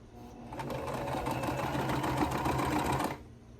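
A sewing machine stitches quilt pieces end to end in one fast, steady run of rapid needle thumps for about three seconds, close by, then stops abruptly.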